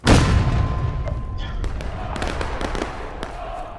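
A cannon fires in a battlefield reenactment on the Hagerstown Turnpike, giving a loud, close boom at the start that rolls off into a long decaying rumble, with people talking and sharper reports scattered after it.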